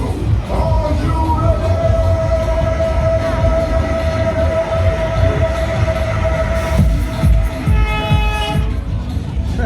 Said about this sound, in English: It's the ghost train behind.